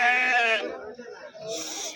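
Goats and sheep bleat at a busy weekly livestock market, one loud wavering bleat up close followed by another calling shortly after, with people talking around them.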